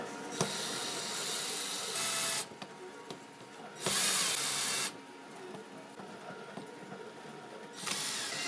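A screw is driven into a 3D-printed PLA part for an RC car differential, giving repeated close, bright grinding bursts separated by quieter pauses.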